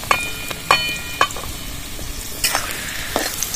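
Chopped carrots fry in refined oil in a kadai, a steady close sizzle broken by several sharp clinks and scrapes of a utensil stirring against the pan.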